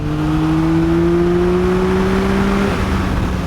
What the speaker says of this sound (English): I'll open it up just to squirt the throttle a little bit